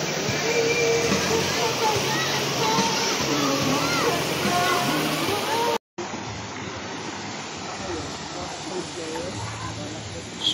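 Swollen river water rushes steadily after a flood near a hanging bridge in Mabitac, Laguna, a dense continuous hiss and slosh with a brief cut midway and voices faintly beneath.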